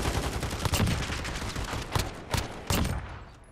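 Rapid gunfire rattles through a video game gunfight with a thrown grenade, with several sharp shot bursts standing out near the end over a dense, continuous background of firing.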